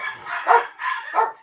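Dogs barking in two loud, close bursts a little over half a second apart, with no talk over them.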